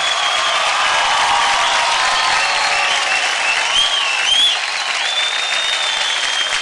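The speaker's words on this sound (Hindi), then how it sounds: "जोरदार तालियां हो जाए विवेक ओबेरॉय के लिए" Loud, continuous audience applause with crowd cheering on a televised dance show stage, a dense wash of clapping that stays strong throughout with occasional whistles rising above it.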